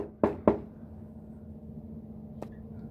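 Two quick knocks on a door sound close together, followed by a lone fainter tap a couple of seconds later over a quiet indoor hum.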